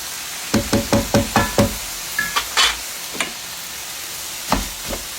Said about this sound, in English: we're going to fry these together